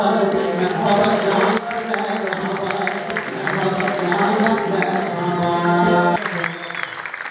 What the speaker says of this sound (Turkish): Ozan Nihat ile Aşık Kozanoğlu'nun atışmaları salondan büyük alkış aldı